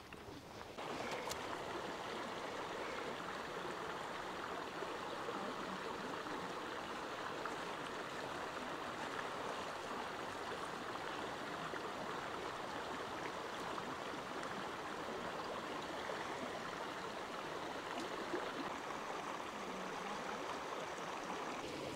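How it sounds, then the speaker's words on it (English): Running water pours steadily over a deer hide being rinsed after soaking in an alkaline tanning solution, a continuous close rushing and splashing flow at even loudness with no talk. "So what we're doing now is we're rinsing the hide."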